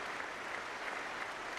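Steady, dense applause from a large audience during a live coding stream, continuous and even, heard at a distance without talk.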